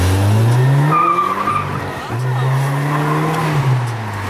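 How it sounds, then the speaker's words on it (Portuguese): A stock car revs hard and accelerates on semi-slick tires, its engine and exhaust rising in pitch, briefly dropping off, then climbing again close by and loud, with a tire squeal mixed in. "o somzinho é bom desse carro original"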